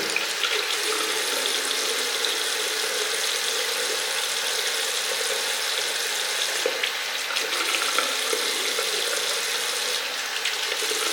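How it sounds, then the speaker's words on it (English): Steady cold water running from a tap over a mouth guard, splashing continuously for several seconds, with no voices, a constant hissing flow. "I run it over under a little bit of cold water."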